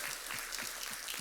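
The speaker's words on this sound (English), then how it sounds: "So a round of applause to them." Audience applauding in a theater at a design and technology event, a brief burst of fairly faint, even clapping from a crowd with a loose rhythm.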